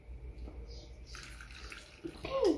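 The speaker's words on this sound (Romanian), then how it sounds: "mai pui un pic de apă să mai pui" Water is poured into a jar of cucumbers with dill for sun-fermented pickles, a close splashing gurgle that rises in pitch as the jar fills.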